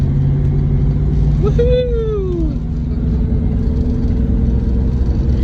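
A manual-transmission car pulling away as the clutch is released, steady close engine rumble with a brief whine sweeping downward, while someone lets out a cheer.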